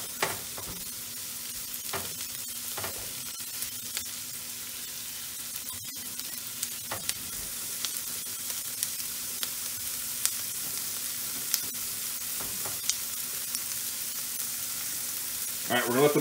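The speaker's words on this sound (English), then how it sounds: "Love the smell of frying onions, it's just so good." Onions frying in oil in a home kitchen pan while meatball sauce is made, a steady soft sizzle and crackle running throughout with occasional clinks and stirring, no voices.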